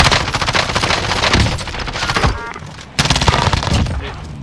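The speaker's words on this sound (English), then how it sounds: "Under fire here. I'm getting shot." Sustained, loud automatic gunfire in Warzone, a dense barrage of rapid shots that barely pauses, with a brief dip before the shooting bursts back in at full intensity.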